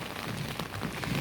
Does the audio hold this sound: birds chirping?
no